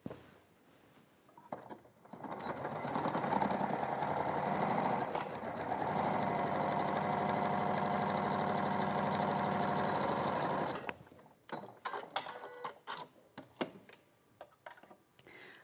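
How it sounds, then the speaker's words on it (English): A sewing machine stitches a 1 cm seam, reversing at the start and end, with a steady fast whirring run of about eight seconds, followed by scattered clicks and taps as the fabric is handled. "I'm going to sew at my 1 centimetre seam allowance, being sure to reverse at the start and the end"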